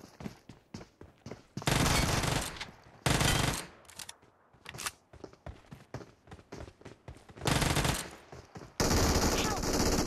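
Video game gunfire in a multiplayer shooter, with repeated loud automatic bursts and spraying fire separated by short gaps and quieter footsteps and movement, mostly close, with brief talk between players.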